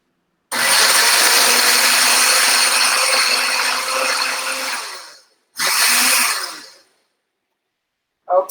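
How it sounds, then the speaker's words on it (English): A loud blender whirs steadily for several seconds, stops briefly, then roars again in a shorter burst before cutting off, blending ginger orange miso dressing. "So now I'm going to put it in the blender, and it's going to be loud."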